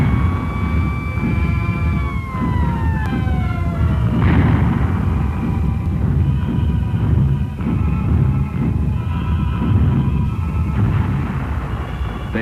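Anti-aircraft guns fire at V-1 flying bombs in wartime archive footage, a dense continuous barrage of booms and rumbling blasts with a falling whine early on, loud and sustained throughout.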